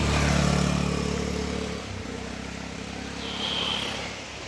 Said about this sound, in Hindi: आवाज़ तो आ रही है बाइक स्कूटी।